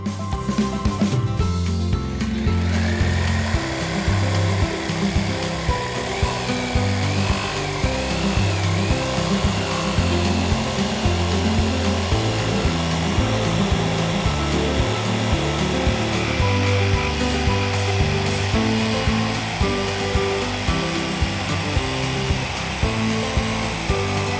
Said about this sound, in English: we're going to go ahead and cut these with a jigsaw